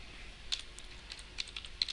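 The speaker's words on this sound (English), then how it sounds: "see here I have to type" Light, irregular keystrokes on a computer keyboard while code is entered for a Zend Framework 2 module, a handful of quiet clicks and taps scattered across a faint room hiss, no voices.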